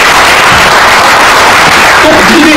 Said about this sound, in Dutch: geef hem nog een groot applaus